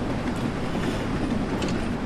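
Steam locomotive running in Train Sim World 3, a steady broadband chuffing rumble with continuous mechanical noise throughout, loud and close with no pauses.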